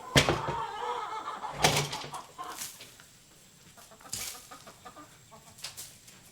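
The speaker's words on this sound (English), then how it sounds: "the chickens are so loud in here" Chickens clucking and squawking nearby inside a barn in a few loud bursts, with quieter rustling between calls.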